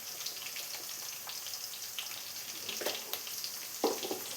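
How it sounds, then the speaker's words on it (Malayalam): Ginger, garlic, curry leaves and green chillies sautéing in a pan for a mango and carrot pickle, a soft, faint sizzle with a few light stirring clicks. "ഇനി ഇതിലോട്ട് കുറച്ച് വേപ്പില കട്ട് ചെയ്ത് വെച്ചതും പച്ചമുളക് കട്ട് ചെയ്ത് വെച്ചതും ചേർത്ത് കൊടുക്കാം."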